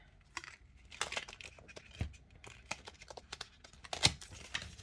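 Overhand shuffle of a small tarot deck, giving a string of soft, irregular card slaps and papery flicks up close, with a sharper snap near the end and no talking.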